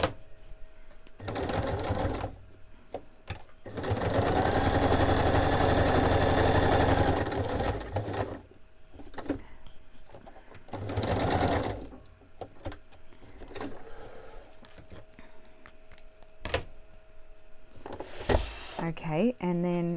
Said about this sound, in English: I'm just going to stitch around it.